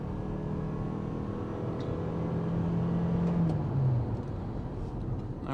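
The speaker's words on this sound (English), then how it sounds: "I'm going to go ahead and put it in its sport mode" A 2025 Toyota RAV4 XSE Hybrid in sport mode pulls hard away from a stop, a steady engine drone climbing in pitch as it accelerates, heard from inside the cabin with no talking.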